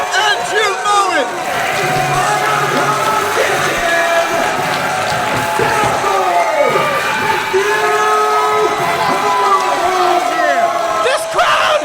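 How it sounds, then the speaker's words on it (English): A wrestling arena crowd roars and cheers loudly after a disputed title change, dense yelling and shouting sustained throughout, with a commentator's voice mixed in. "This crowd is going berserk."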